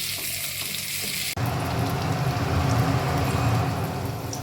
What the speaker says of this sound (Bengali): এইভাবে আমি ভেজে নেব লাল করে।